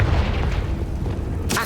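A Confringo fire-spell explosion in the video game Hogwarts Legacy, a deep rumbling boom that rolls on for over a second, with a brighter crackling burst near the end.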